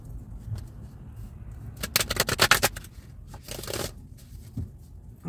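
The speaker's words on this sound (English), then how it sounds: "Let's get one more good shuffle." Tarot cards being shuffled close by, a quick run of crisp flicking clicks in the middle, then softer riffling and a few scattered taps.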